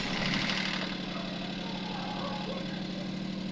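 A car engine starting up and idling during a check engine test, with a loud steady rumble throughout that is slightly louder at the start; people can be heard talking beneath the engine noise.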